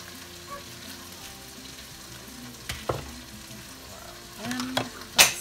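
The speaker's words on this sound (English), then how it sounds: "Sweet pepper's always nice in a stir fry." Sweet pepper and noodles stir-fry in a pan for a sweet and sour dish, giving a low, steady sizzle broken by a few sharp utensil clacks and a louder scrape near the end.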